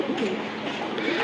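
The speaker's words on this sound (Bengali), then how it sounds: "ভাইয়ের খুবই বিশ্বস্ত একটা কবুতর, নর কবুতর" Male tournament racing pigeon gives a low, throaty coo, a continuous soft rolling call heard up close and moderately loud, with faint background noise.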